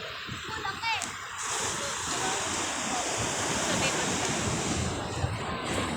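Ocean waves at the sea, a continuous surf wash with wind buffeting the microphone, loud and close, and a voice faintly under the noise.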